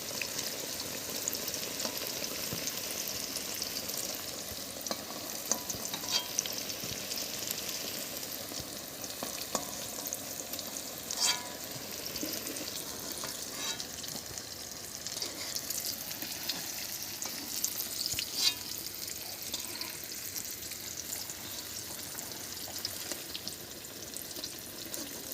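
Eggplant pieces frying in oil in a pan, a continuous soft crackling sizzle with occasional pops and light stirring, steady throughout with no voices.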